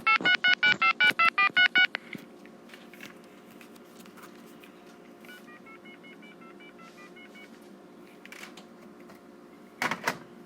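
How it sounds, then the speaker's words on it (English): A Southwestern Bell FM-2552/FM-2000 corded trim-line telephone dials a number, with a rapid string of about ten distinct touch-tone beeps, then quieter tones after a pause and a final short pair of beeps. "the phone number that I wish to dial, and then I push the second button above the 2 key on the keypad."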